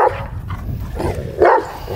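A large Caucasian Shepherd Dog (Ovcharka) gives a few deep, loud barks close by, with short gaps between them and no speech.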